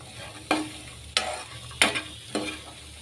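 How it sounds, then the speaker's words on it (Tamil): Black chickpea masala with chopped tomato and onion being stirred in a pan, four distinct scraping strokes at regular intervals, close and fairly loud, with no talking. "இப்போ இதே நல்லா கலந்து விட்டுடலாம்"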